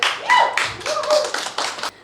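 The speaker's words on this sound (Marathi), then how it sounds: "एकदा जोरदार टाळ्या होऊन जाऊ दे" A comedy show audience gives a few short, uneven bursts of clapping, close and fairly loud, tapering off quickly.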